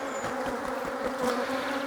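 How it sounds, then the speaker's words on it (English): Honeybees tapped off a queen excluder during a shook swarm hive inspection make a dense, steady buzzing drone, close and continuous throughout. "So I'll just tap the bees off"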